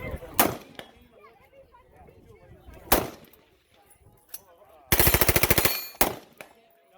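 An H&K rifle fires on full auto, sharp loud shots with one rapid burst of about a dozen rounds in under a second, followed by another crack.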